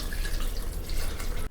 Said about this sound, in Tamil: கறி முங்குற அளவுக்கு தண்ணி ஊற்றிடுங்க.